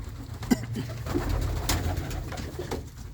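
Pigeons coo softly in a breeding loft, several low burbling calls overlapping in an uneven rhythm, close but quiet, with a few faint flutters and shuffles between them.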